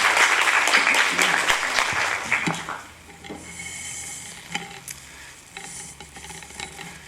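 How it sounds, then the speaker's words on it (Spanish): Audience applause at a professional panel session, loud and dense at first then thinning out into scattered claps and room noise before the next speaker begins. "les pediría un aplauso para el querido maestro, por favor"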